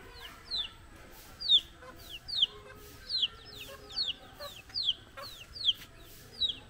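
Chickens in a remote Bangladeshi village clucking in short, repeated calls about once per second, fairly close over a quiet rural background.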